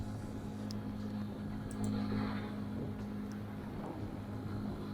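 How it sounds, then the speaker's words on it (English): A 2021 Zontes U125 125cc motorbike engine drones steadily while riding, with wind rush over it, a continuous low hum with slight swells in loudness. "let's get on with the test ride"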